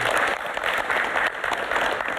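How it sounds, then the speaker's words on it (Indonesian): Full, steady audience applause during a pre-dawn Ramadan broadcast, dense continuous clapping at even loudness throughout with no talk over it. "Boleh berikan tepuk tangan untuk Pak Hatta."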